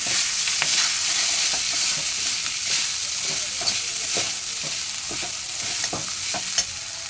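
Washed and dried flattened rice (chira) stirred through a hot pan with turmeric for chira polao, a steady broadband sizzle with repeated scraping spatula strokes close up, no talking.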